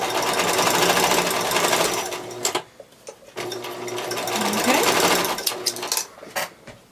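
A sewing machine zigzag-stitches a fabric seam on a homemade pocket tissue holder, a fast close mechanical whirr running in two bursts with a short pause between.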